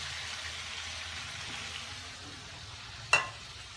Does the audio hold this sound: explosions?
no